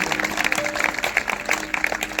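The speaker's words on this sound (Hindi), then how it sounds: "अगर आए तो जोरदार तालियां बजाएंगे" A church congregation at a Sunday meeting claps loudly in a steady, rhythmic beat, each sharp clap sounding close and distinct across the short stretch.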